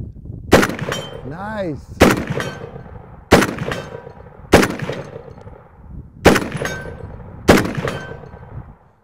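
An M1918 BAR fires six single shots at a steel target, each a loud, sharp crack followed by a ringing metallic clang, spaced about a second or so apart outdoors, with a voice briefly speaking between shots.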